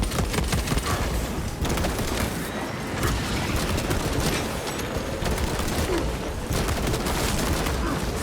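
Rapid gunfire and bursts of weapons fire in a Space Marine video game, dense and continuous with loud explosive hits throughout.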